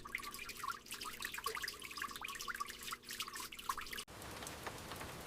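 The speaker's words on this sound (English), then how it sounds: "You wash the vegetables slowly beneath cool running water." Vegetables are rinsed slowly under cool running tap water in a quiet countryside kitchen on a rainy day. Close, steady splashing and dripping runs throughout, shifting after a short cut to a smoother, denser wash of water, with no voices.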